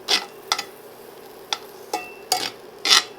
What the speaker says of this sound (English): We're gonna take our peppers and onions, drop them right in here,